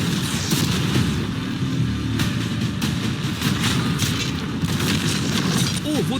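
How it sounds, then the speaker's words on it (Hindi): Cannons firing at a new yacht and storage containers, a dense run of loud booms and crashing impacts layered with rumbling, with background voices mixed in throughout. "अब हम तुम्हारी नई यॉट पर कैनन्स को शूट करने वाले हैं"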